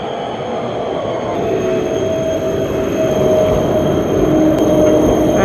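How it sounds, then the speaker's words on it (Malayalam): A new high-end tram runs along a Prague street with a loud, steady rolling rumble and faint squeals of the wheels. The sound builds gradually as the tram passes close by, and no voices are heard. "ഹൈ എൻഡ് ട്രാം, പുതിയ ട്രാമാണ്."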